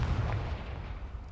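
A Confringo blasting spell exploding in Hogwarts Legacy, a single muffled low boom that opens the clip and then fades into a rumbling decay, fairly quiet overall.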